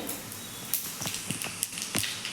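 Mustard and cumin seeds hit hot oil in a pan, giving a steady sizzling hiss with scattered sharp pops and crackles, close and fairly loud throughout.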